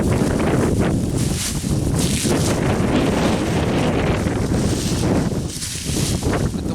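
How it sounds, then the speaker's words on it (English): Strong wind blowing hard across an outdoor deep-mulch garden in December, a steady loud roar with gusty swells and microphone buffeting throughout, and no voices. "With the wind blowing as hard as it is"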